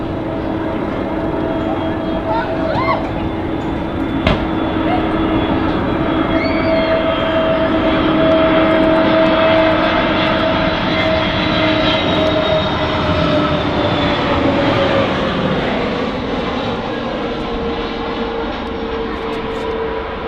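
Airbus A320neo jet at Manchester Airport, a loud steady engine roar with a sustained whine that slowly shifts in pitch as the plane passes, continuous throughout.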